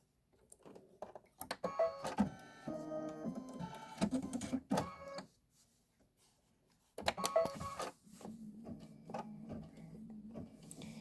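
A sewing machine stitches a quilting design on a quilt block in bursts of rapid mechanical whirring, with a short pause in the middle before stitching resumes, up close and alone.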